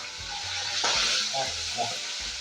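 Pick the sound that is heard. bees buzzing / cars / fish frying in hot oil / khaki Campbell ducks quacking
fish frying in hot oil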